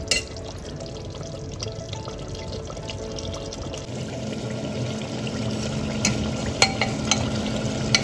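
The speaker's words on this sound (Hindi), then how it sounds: "इसे और भूनेंगे अच्छा सा खोल के, उसके बाद आलू डालेंगे" Mutton sizzling as it fries in a pan for aloo gosht, a steady crackling hiss with occasional stirring scrapes and drips, growing slightly louder toward the end, close and without talking.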